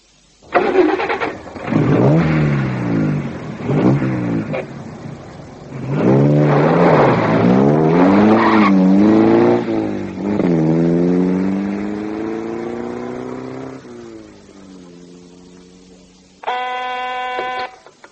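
A car engine starts and revs hard in several loud, close bursts, its pitch climbing and falling before it settles into a lower drone, ending with a brief buzzing tone.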